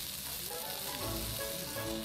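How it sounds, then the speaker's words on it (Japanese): Grilled chicken sizzles steadily on a hot plate at a restaurant in Asakusa, Tokyo, a dense crackling hiss that stays loud and close throughout with no talking. "ジュージュー言ってる。"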